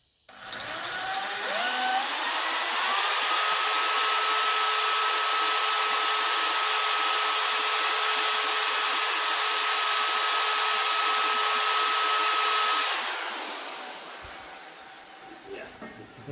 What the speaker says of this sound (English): Okay, so we've got the hole drilled.